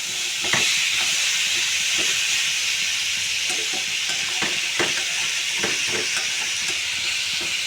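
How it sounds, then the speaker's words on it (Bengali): Bitter gourd and pumpkin slowly fry in a wok with salt, turmeric and sugar, a constant close hissing sizzle punctuated by scattered soft stirring taps and spatula scrapes, without speech. "এবার ওই আস্তে আস্তে ভাজা হোক"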